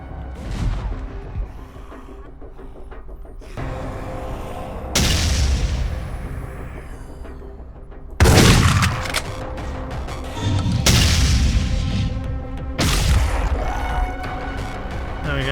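Repeated heavy booms and blasts of grenade explosions from zombies in the video game Dead Effect, several loud detonations with ringing decay over a continuous game soundscape.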